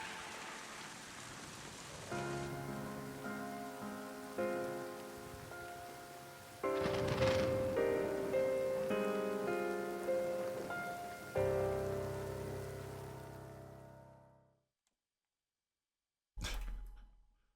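Steady rain patter from the video game Final Fantasy XIII under layered music chords that swell and shift, fading out before a brief final burst of noise.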